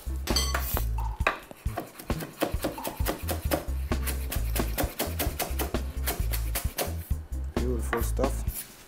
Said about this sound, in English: So literally you chop this up.